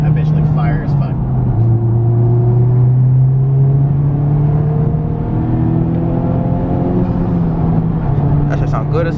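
A Honda Civic Type R fitted with an Invidia 400 exhaust idles and revs with a loud, steady drone, its pitch rising and settling across the whole stretch.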